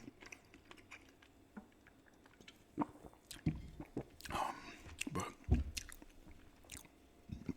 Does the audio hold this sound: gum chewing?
yes